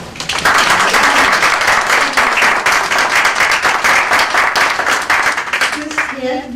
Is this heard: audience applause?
yes